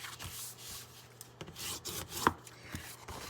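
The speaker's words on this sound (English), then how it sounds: "I'm going to get my bone folder and score on all these lines" Bone folder dragged across cardstock to score fold lines, soft repeated rubbing and scraping strokes close up, quiet and steady with a few light taps.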